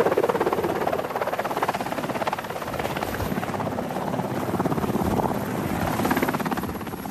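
Military helicopter flying near Royal Marines, its rotor blades thudding in a rapid steady chop with a loud droning roar that swells and fades slightly.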